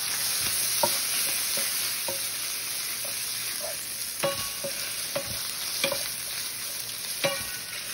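Bacon sizzling in a pan while stirred, a steady hissing fry punctuated by irregular metallic scrapes and clinks of the utensil, near and moderately loud, with a faint high electronic tone running underneath and no talking.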